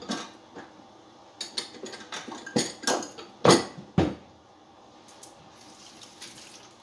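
Water splashes and runs in uneven bursts near a sink, with a few sharp clinks and louder surges before settling into a quieter trickle.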